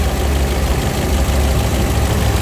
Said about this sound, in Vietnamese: Máy nổ êm,